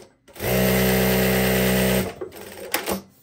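Jack A7-D computerised single-needle lockstitch sewing machine running a seam with automatic bar-tack at start and end: a loud, steady motor whir with rapid stitching for about one and a half seconds, then stopping with a few clicks.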